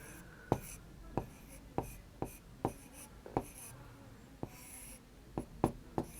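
Chalk or marker strokes on a board during a class 3 maths lesson: about a dozen short, sharp taps and scrapes in an irregular rhythm, close and fairly clear, with quiet room tone between.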